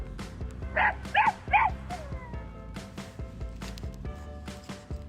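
A puppy gives three quick, high yips in a row, then falls quiet while soft background music keeps playing.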